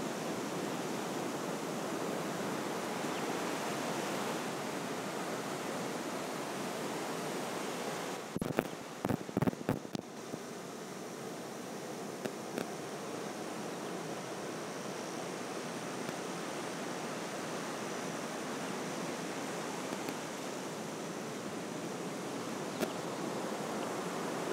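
Waves wash onto a long beach in Crowdy Head National Park, a soft, continuous distant surf hiss with a brief handling bump partway through.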